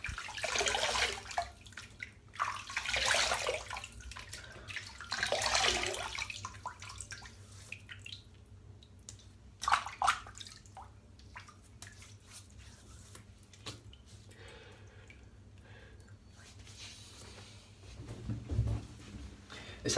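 Water splashes and trickles as Neroli shave soap lather is rinsed off a face, quiet intermittent washes and drips near a sink.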